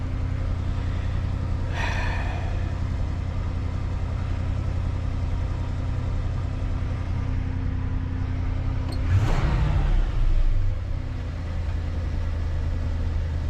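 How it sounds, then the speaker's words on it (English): A 1976 GMC motorhome engine idles steadily too high, around 1,000 rpm, with a low constant rumble, briefly swelling as something passes nearby. "It's still idling too high."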